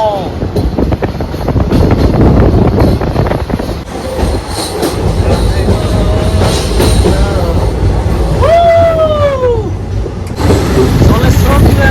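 A passenger train rolls across the Farakka Barrage, loud and close: a steady heavy rumble with clattering wheels and a rising metallic squeal near the end, while voices are heard over it.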